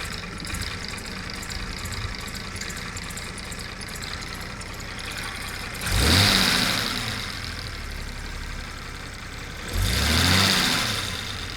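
The new engine in a daily-driven Jaguar runs rough and lumpy on a test drive, a steady uneven drone punctuated by two louder bursts of acceleration.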